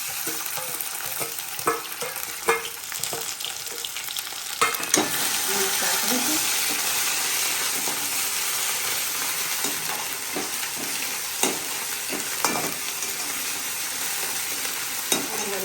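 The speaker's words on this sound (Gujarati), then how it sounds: "જીરું ગરમ થઈ ગયું છે। હવે આપણે નાખીશું લીલું લસણ, બધા મસાલા જે તૈયાર કર્યા હતા એ નાખી દઈશું અંદર।" Green garlic and prepared spices hit hot oil with cumin seeds, giving a loud, steady sizzle broken by repeated spatula scrapes and clinks against the pan.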